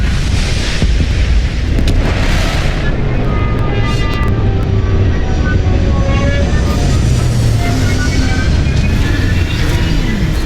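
A spaceship sets down in Starfield with a loud, sustained roaring thrust and deep rumble, rising and falling whooshes layered over it throughout.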